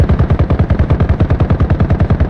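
Rapid machine gun fire aimed at aircraft in Arma Reforger, a steady fast hammering burst of evenly spaced shots, close and loud, with no talk.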